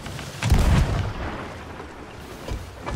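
A ship's cannon in Sea of Thieves fires with a single heavy, booming blast, followed by a fading rumble and the sound of wind and sea.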